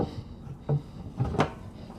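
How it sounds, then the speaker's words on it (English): Soft-close premium wood drawers in the kitchen of a 2023 Newmar London Aire 4521 motorhome slide and settle with a few muffled thuds and light knocks, close by with no talk. "These are, again, all going to be soft close using premium wood."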